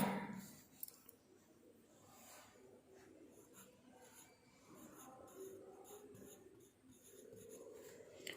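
Faint pencil scratching on paper during a fifth-grade maths exercise, soft irregular strokes close by under a quiet room hum, with occasional faint background bird cooing.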